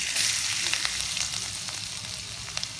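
Garlic frying in melted butter in a pan gives a steady, close sizzle with small crackling pops throughout, no voices.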